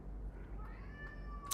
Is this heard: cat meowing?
yes